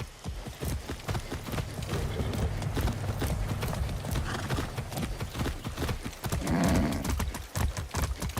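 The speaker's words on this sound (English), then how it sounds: "Shit, I haven't ridden a horse since basic training." Galloping horse hooves in Far Cry 6, a fast, continuous drumming of hoof beats close up and fairly loud throughout, with a brief whoosh of wind or movement partway through.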